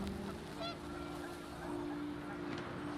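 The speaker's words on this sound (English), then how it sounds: "The wind picked up, and panicked geese appeared and quickly went." Panicked geese honk amid steady gusting wind in the video game What Remains of Edith Finch, a couple of faint honks standing out over a constant hum.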